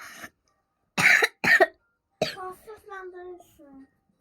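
Two sharp, close coughs from a child, separated by a short pause, followed by a few spoken words.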